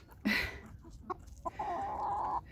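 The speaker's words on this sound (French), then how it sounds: "Ça c'est une poule de combat, ça." A fighting-breed hen clucks close by on a farm in freezing weather, giving a sharp squawk, a few soft clucks, then a drawn-out tonal call.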